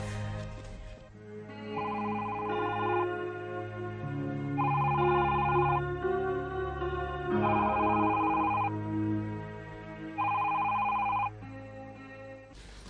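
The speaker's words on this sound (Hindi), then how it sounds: "इतनी देर से टेलीफोन की घंटियां बजी, सुनाई नहीं दे रहा?" A telephone rings in repeated electronic bursts with short pauses between them, loud and close over a low musical backdrop, in a 2003 Pakistani TV drama scene.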